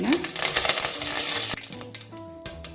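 Chana dal, urad dal and curry leaves with cumin sizzle in hot oil for brinjal gravy, a steady close frying hiss with light stirring taps and clinks near the end.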